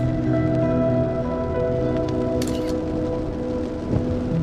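Rain on the Oregon coast, a steady dense patter heard from inside a moving car, mixed with low road rumble and a brief sharper splash, continuous and fairly close, with no talk.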